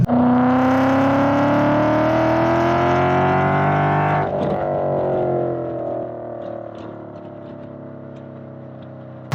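A Ford Mustang GT V8, modified to rev like a Shelby GT350, screams loudly up through the revs with a rising whining pitch, then drops off and settles into a fading, lower engine note.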